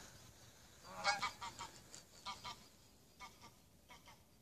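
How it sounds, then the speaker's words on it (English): Geese honking over Loch Lomond, a burst of several rapid nasal calls followed by scattered further honks, moderately loud outdoors with no talk. "Oh, look at that, geese."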